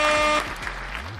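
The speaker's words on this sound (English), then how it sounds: "Jamaican air horns" A blaring air horn effect in the Jamaican dancehall style, one loud sustained buzzy blast that cuts off sharply, followed by a brief low tail.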